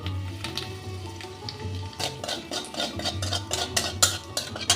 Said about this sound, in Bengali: দিয়ে দিচ্ছি একটু কালো জিরে আর একটা শুকনো লঙ্কা ফোড়ন।